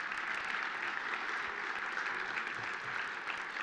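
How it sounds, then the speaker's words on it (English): Audience applause at a DSM business event at the New York Public Library, a steady even roll of many hands clapping, moderately distant, with no voices standing out. "Please give him a round of applause."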